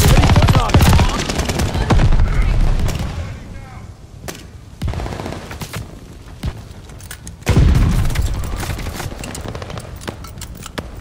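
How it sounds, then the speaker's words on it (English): Mortar shells explode amid heavy gunfire in the Call of Duty: Vanguard video game. Loud, close bursts of rapid machine-gun fire and booming impacts come in several waves, with faint shouting in between. "They're sending mortar shells!"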